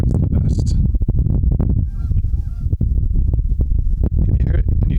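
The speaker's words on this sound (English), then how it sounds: "Can you hear the geese?" Canada geese honking repeatedly at a park lake, loud and close in bursts, with a person speaking between and over the calls.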